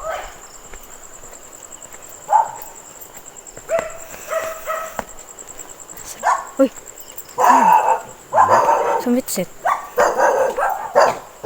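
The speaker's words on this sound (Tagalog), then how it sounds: "pasensya na po sa inyong maririnig na tahol ng aso." Dogs bark at night along a 1,000-step stairway near Holy Cross in Minalungao. The barks come in repeated close bursts while people talk and exclaim over them.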